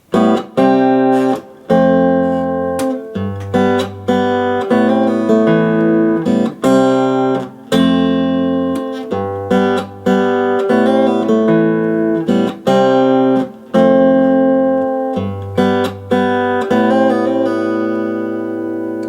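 Acoustic guitar plays a repeating riff of strummed chords and picked bass notes, steady and close, with short gaps between phrases and no voices.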